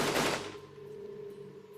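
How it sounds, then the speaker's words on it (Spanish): A loud burst of gunfire opens a rebel ambush on a military patrol, then fades into a ringing, echoing tail with a faint steady hum behind. "Cuando suenan los primeros disparos"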